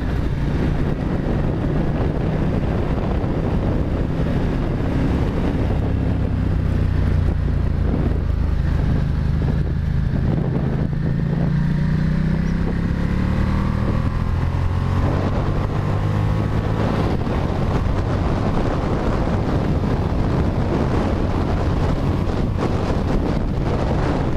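Ducati XDiavel motorcycle being ridden on the road, its engine droning low beneath heavy, constant wind buffeting on the microphone, with slowly rising and falling engine pitch as it accelerates and shifts.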